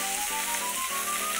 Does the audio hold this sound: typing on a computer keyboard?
no